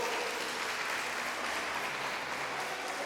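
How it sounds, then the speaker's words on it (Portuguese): A church congregation claps for the Lord during a sermon, a faint, distant, steady wash of applause with no breaks. "Aplauda mesmo ao Senhor."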